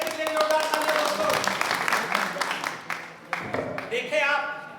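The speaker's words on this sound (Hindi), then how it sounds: "विजय जी के लिए जोरदार तालियां दोस्तों" Applause from an audience for a speaker, a dense patter of many hands clapping, loud and sustained, mixed with voices talking and cheering through it.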